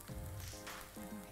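Vegan burger patties sizzle and fry in an oiled pan, a steady close crackle with brief louder bursts and a low humming tone underneath.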